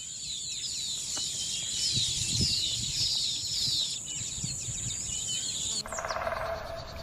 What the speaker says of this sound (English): weaver bird.